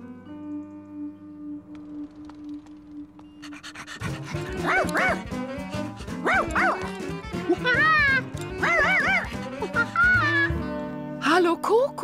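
A dog in a children's cartoon; after a quiet opening comes a lively run of barks and yips mixed with panting, close and fairly loud.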